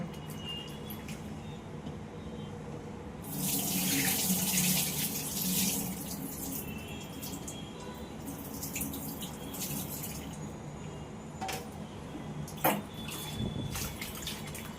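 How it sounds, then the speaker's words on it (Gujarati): Fenugreek leaves are washed under a running tap in a kitchen sink, starting with a faint trickle, then a louder gush of water, then quieter splashes, drips and a sharp clink near the end. "આવી રીતે લગભગ 5 થી 7 વખત પાણી લેવું પડે મેથી ધોવા માટે."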